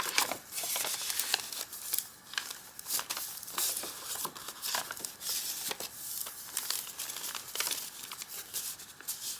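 Sticker paper from a sewn junk journal rustles and crinkles up close. The handling goes on for several seconds as repeated dry crackles and soft tearing-like sweeps, with no talking.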